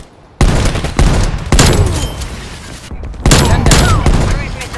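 Heavy hand cannon blasts boom in a rapid series of loud, echoing shots, each with a long reverberant tail, in the video game Call of Duty: Black Ops Cold War.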